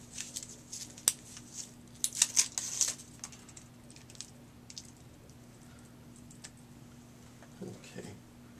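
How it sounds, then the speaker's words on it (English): Insulin pump infusion set packaging being unwrapped: light crinkly rustles and a few sharp snaps cluster early, then quieter handling and a couple of soft thuds near the end, close and moderately loud over a low steady hum. "unwrap everything."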